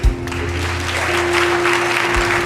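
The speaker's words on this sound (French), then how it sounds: "Est-ce qu'on peut acclamer bon Dieu?" A church congregation claps and cheers in praise during a worship service, steady dense applause filling the room for a couple of seconds, loud and close, with no clear speech on top.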